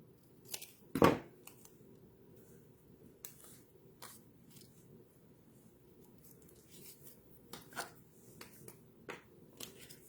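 Paper being trimmed with scissors for a craft project, scattered quiet snips and rustles with one louder crunch early on, faint and spaced out across a quiet room.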